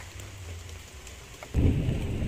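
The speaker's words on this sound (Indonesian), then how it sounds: "Wah, geludukan lur." Thunder rumbles low and loud during a heavy storm with rain, starting quiet and then swelling into a deep roar about halfway through, with no speech.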